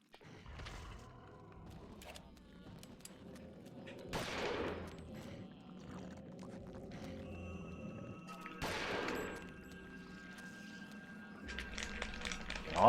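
Shotgun blasts in the Eternal Darkness video game boom out in a few separate bursts, each sharp and broadband with a short tail, over a low dim game ambience.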